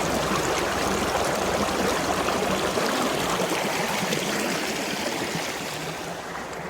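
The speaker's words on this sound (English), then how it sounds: "Good water flow here." Mountain stream water rushing steadily on the Appalachian Trail, a dense continuous close-up flow that fades slightly toward the end.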